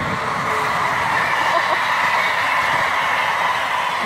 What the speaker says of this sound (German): Schnellzug.